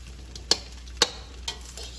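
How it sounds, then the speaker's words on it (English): Rice with butter being stirred in a pan, a soft steady sizzle broken by a few distinct scrapes and clinks of a utensil, about three spaced strokes over a quiet hum. "Keep mixing, keep stirring."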